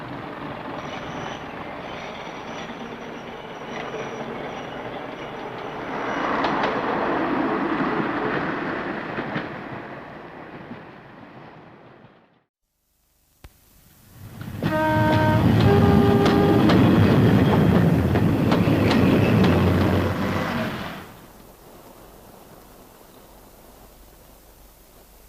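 A diesel train rumbles along the rails, swelling louder as it passes close by, then after a brief break a second loud run with rhythmic clatter fades away.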